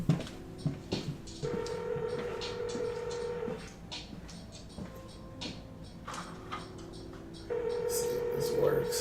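Phone call being dialed for a podcast guest: steady ringback or dial tones in long sustained stretches, with short tone bursts and clicks between them, while background speech runs underneath.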